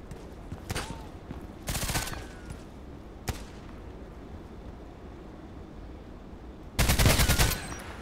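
Gunfire rings out in a sniper video game: a few sharp single shots, then short bursts of rapid automatic fire, the loudest burst near the end, with quiet ambient noise between them.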